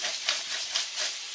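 A rib-eye steak sears in a hot pan, giving a bright, steady hiss with gentle pulsing swells throughout the short stretch, no voices.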